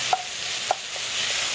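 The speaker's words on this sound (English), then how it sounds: "Get our bacon or our sausage browned up." Bacon or sausage browns in a pot for venison chili, giving a soft continuous hiss. Two light utensil taps sound near the start and middle.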